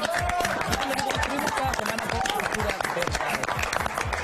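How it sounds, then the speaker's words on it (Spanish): Energetic studio audience applause for the team behind a television program, dense rapid clapping at steady loudness with crowd chatter and voices mixed in. "así que otro aplauso más por este equipo"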